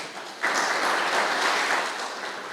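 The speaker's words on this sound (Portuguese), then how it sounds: "Aplauda o nome de Jesus" Applause bursts out suddenly at a church service and carries on as a dense, steady wash of clapping from a congregation, fairly loud and close, with no talk over it.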